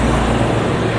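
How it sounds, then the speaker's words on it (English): Trucks roll along a busy street in Lamai on Koh Samui, a loud, close, continuous engine and road rumble with no talking. "Load of trucks on this street,"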